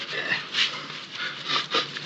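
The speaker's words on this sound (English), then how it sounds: "Are you still playing nursemaid to that little dog you found?" A small dog pants close by in quick, breathy bursts with a faint whimpery edge, in a western television drama scene set on a ranch.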